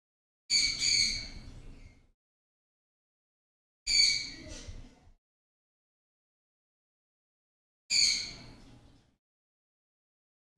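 A pet bird squawks loudly three times at even intervals of about four seconds, each harsh, piercing call lasting around a second and a half with silence between, close to the microphone.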